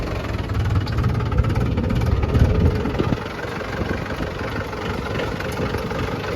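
A tractor engine idles with a steady low rumble and vibration, loud and close, the chugging even throughout with no talking.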